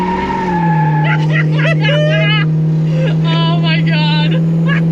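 A Gen 3 Hemi-swapped Gremlin accelerates hard, its engine droning loud and close while the tires squeal in long wavering screeches, and people in the car talk and exclaim over the noise.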